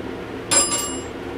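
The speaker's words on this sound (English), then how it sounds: "And the bell comes out, it comes out of here, I think." A single chime from the bell of an old Montgomery elevator at a Nordstrom store in a shopping mall, one clear ding over quiet room tone that rings out for a moment and then decays.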